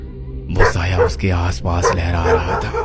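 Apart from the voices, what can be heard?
dog barking (story sound effect)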